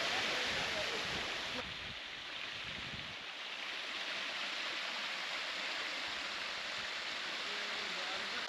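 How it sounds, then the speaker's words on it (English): A mountain waterfall rushes in a steady broadband roar, constant and enveloping, with a brief dip partway through. "We finally made it to the waterfall."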